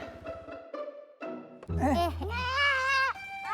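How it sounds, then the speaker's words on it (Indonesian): Goat bleating, a wavering cry that rises and falls near the end, heard amid a cartoon scene with music and a voice talking. "Kambingnya ikut juga."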